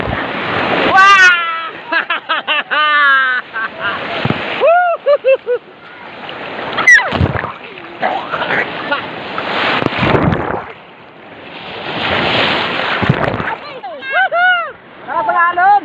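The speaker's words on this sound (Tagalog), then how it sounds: "Lakas ng alon!" Strong sea waves at a beach surge and crash in repeated broad roaring washes, heard close and loud between and beneath excited, shouting voices.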